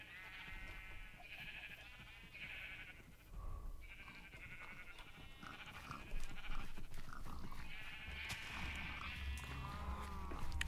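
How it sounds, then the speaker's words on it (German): Minecraft sheep bleating repeatedly in a blocky game world, several wavering bleats in close succession, some overlapping, over a faint background of game noise. "Warum schon wieder ein Schaf, Alter?"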